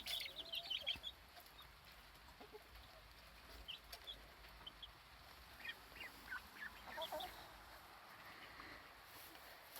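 White Leghorn hens in a backyard flock give soft, scattered clucks and short calls at a distance over a quiet outdoor background.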